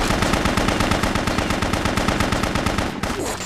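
Rapid automatic gunfire from the BloodRayne video game, a loud unbroken burst of evenly spaced shots that runs for about three seconds before cutting off.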